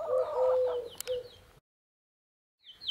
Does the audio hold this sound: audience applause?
no